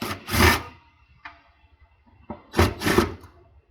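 Screws being backed out of the front of a Goldshell X6S crypto miner's metal case, two close bursts of gritty scraping and turning, separated by a quiet gap with small clicks.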